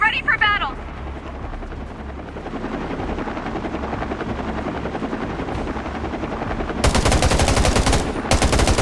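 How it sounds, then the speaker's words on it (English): Enemy helicopters in the Undawn video game drone with a loud, steady rotor throb, joined late by bursts of rapid machine-gun fire, with a short voice-like sound at the very start. "Their choppers are on the way."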